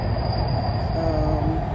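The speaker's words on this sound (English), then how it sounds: "Yeah, it got trains over here." Train rolling along rails in Atlanta, a continuous loud rumble with a faint wheel squeal, heard close and alone.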